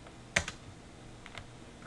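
A couple of sharp keystrokes on a computer keyboard while entering values into 3D modelling software, one firm click followed by a softer second, then another lighter tap about a second later, close and alone in a quiet room.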